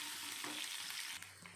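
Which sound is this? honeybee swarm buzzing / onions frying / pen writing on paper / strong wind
onions frying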